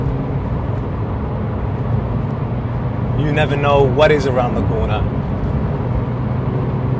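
A Porsche 911 991.1 GT3 engine drones steadily and low while driving, sitting under a person talking throughout.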